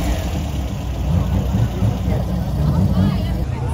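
An old Volkswagen Beetle engine idles with a steady, lumpy low rumble from the exhaust, with indistinct voices faintly in the background.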